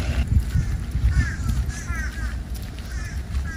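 Crows caw outdoors, with several hoarse calls in a row over a low rumble of wind and background noise.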